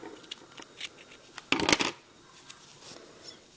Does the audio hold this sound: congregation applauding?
no